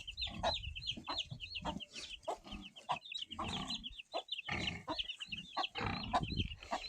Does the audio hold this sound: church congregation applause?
no